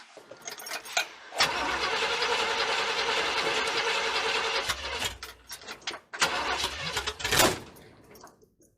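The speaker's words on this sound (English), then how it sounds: "That's not good. It's backfiring again." A worn-out 350 V8 engine cranking and catching, then running roughly at a steady loud roar, stumbling, cutting out and restarting with sharp popping backfires near the end.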